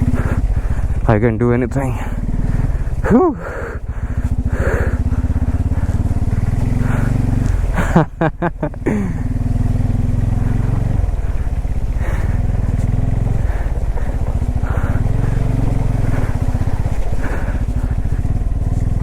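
A Bajaj Pulsar N250 motorcycle ridden off-road through thick mud, its engine droning loudly and steadily close by with brief revving surges, while a person talks over it now and then.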